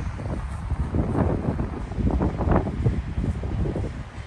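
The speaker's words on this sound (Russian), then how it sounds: "Ветер просто сносит все." Strong, gusty wind batters the microphone outdoors during a stormy Israeli winter day, a continuous loud low roar that swells and surges in waves with no break.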